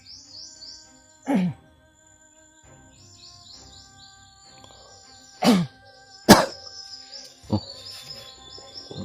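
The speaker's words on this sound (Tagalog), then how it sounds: "Ibon yan." Birds chirp outdoors in short, high twittering phrases, fairly faint and partly distant, broken by a few sharp thumps and low background rumble, with no talking.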